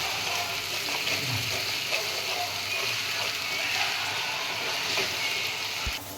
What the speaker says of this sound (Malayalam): ഇനി അത് നന്നായിട്ട് മൂക്കുന്നോടെ വരെ നമ്മളൊന്ന് ഇളക്കി കൊടുക്കണേ.